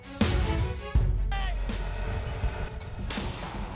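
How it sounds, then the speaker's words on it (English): Loud booming blasts from an M1 Abrams tank's 120mm smoothbore cannon, two sharp heavy reports roughly a second apart followed by a long rumbling decay, with another burst near the end. "The heart of this lethal force is its main gun, a 120mm smoothbore cannon."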